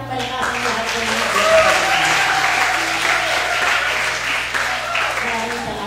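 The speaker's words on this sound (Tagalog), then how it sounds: "Maaari po bang pumalakpak ng malakas ang lahat ng mga" Congregation applauding loudly during a church service, a sustained wash of clapping at even volume throughout, with a low steady hum and faint voices beneath it.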